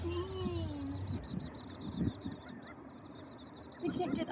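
Tiny baby quail chicks, left on their own, peep in a rapid run of thin high calls close by, under low outdoor rumble and a brief voice.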